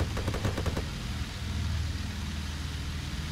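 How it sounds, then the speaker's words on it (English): Aircraft machine guns rattle in rapid bursts during a simulated air battle in IL-2 Cliffs of Dover, the fire fading into a steady engine drone. "Somebody shooting at him."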